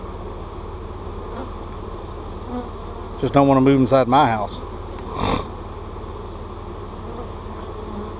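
Vacuumed honeybees being put into a hive box for a laying-worker colony give a steady insect buzz throughout, with a person speaking briefly over it in the middle.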